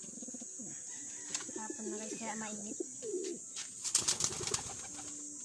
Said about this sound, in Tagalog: Ayan yung mga ibang kalapati natin guys.